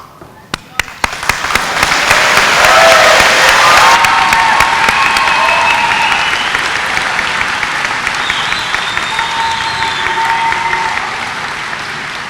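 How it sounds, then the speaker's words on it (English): Applause erupts from the audience at a community college commencement ceremony, a few scattered claps building quickly into sustained, dense clapping from a large crowd that slowly tapers over about ten seconds. "applause is allowed now"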